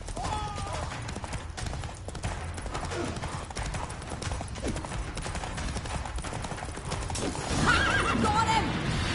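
A horse gallops with rapid rhythmic hoofbeats and lets out a neigh in The Witcher 3, set against steady game ambience, with the hooves growing louder toward the end.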